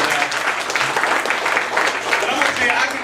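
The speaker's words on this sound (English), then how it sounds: "Give Tim a good hand clap." Loud, close audience applause at a stand-up comedy show, a thick continuous wash of clapping that fills the whole moment without letting up.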